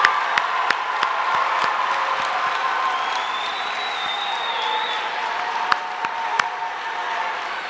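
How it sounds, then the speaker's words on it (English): An audience at a state DECA career development conference applauds in a steady, full round of clapping that carries on without a break, with a few sharper claps standing out above the wash. "can we quickly get a round of applause for not only my 2 parents sitting in the front row, but also all the DECA parents"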